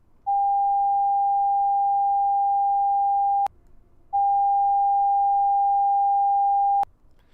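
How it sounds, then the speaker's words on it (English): Two steady 800 Hz sine test tones, the first held about three seconds, then a brief gap and a second held nearly three seconds at a slightly higher level of -17 dB versus -18 dB, clean and alone. "I'm going to play 800 Hz at -18,"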